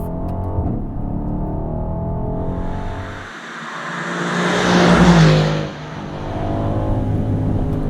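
A Mercedes-AMG GLC63S Coupe engine in Sport Plus mode revs loudly and steadily, swelling to a stronger peak near the middle before settling back to a hard-pulling drone.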